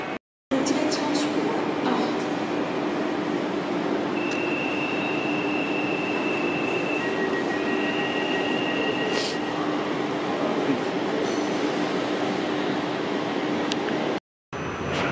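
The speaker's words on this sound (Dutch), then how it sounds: "we zitten nog steeds in diezelfde trein als een paar minuten geleden" Inside an ICNG intercity train while riding from Amsterdam Centraal, a steady loud rumble of wheels on track fills the carriage, with occasional squeals and thin whines, continuous throughout, with brief dropouts at the start and end.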